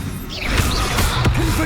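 A Protego shield spell is cast in Hogwarts Legacy, a loud mix of whooshes, crashing impacts and mechanical clanks over a rumbling game soundscape.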